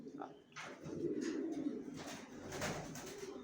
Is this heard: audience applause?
no